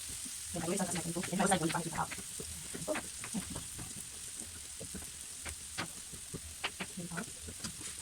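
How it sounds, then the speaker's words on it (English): Onions frying with meat in a pot, a soft crackling sizzle with scattered pops and stirring knocks, fairly quiet, with brief bursts of other noise near the start and end. "while my onions are turning into golden brownish while fried together with the meat"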